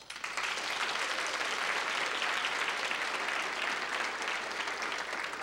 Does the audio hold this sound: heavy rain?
no